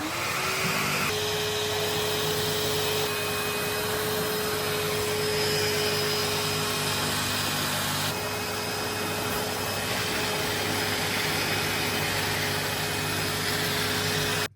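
A Numatic George wet-and-dry vacuum cleaner drones steadily and loudly while washing a carpet and sucking up dirty water, its motor whine unbroken from start to finish with no talking.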